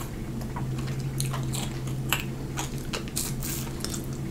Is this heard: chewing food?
yes